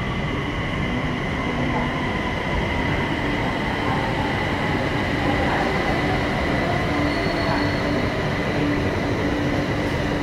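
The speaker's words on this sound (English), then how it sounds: "The train we need should be coming shortly." A train pulls into a Bangkok rail station with a continuous loud rumble and a hum of wheels on track. Faint squeals rise over the steady roar.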